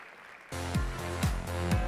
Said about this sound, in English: a big round of applause for Conchita and our panel